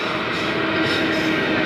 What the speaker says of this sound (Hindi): मालगाड़ी स्किप करती हुई